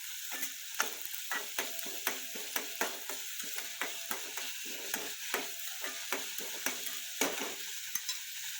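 Onion frying with rock salt in a pan, a constant bright sizzle punctuated by regular scraping and tapping as it is stirred, steady and fairly close.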